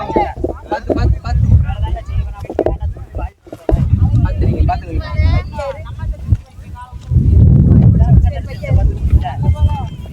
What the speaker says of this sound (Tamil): காற்று செம்மையாக அடிக்குது சில்லுன்னு இருக்கு